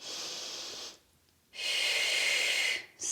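Close, breathy inhales and exhales during a full-body workout blended with meditation: a long breath, a short quiet pause, then another sustained breath, with no talking.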